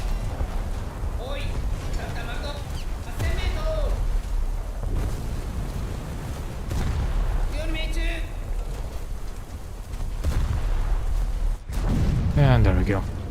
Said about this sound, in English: I'm just gonna keep shooting him. Whilst all my guns are still operational.